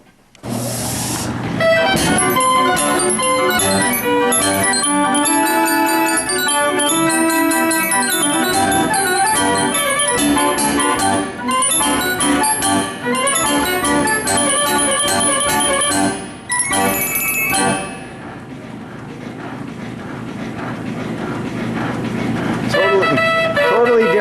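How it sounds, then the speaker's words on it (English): A band organ from Idora Park in Youngstown plays at DeBence Antique Music World in Franklin, Pennsylvania: loud, continuous, whimsical fairground music with bright pipe tones and a steady rhythm, briefly dipping before swelling again. "they get to listen to the band organ. So this is from Idora Park in Youngstown"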